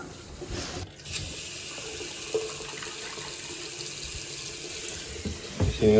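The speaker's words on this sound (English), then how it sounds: "We're running water." Tap water runs steadily into a sink beneath which a water line is being checked for leaks, a constant close hiss with a brief knock near the start and a clatter at the end.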